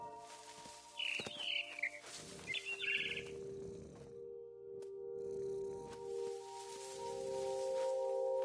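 Barn swallow chirping in the video game What Remains of Edith Finch, a few brief, faint high chirps early on over quiet game ambience with a low steady hum and soft rustling.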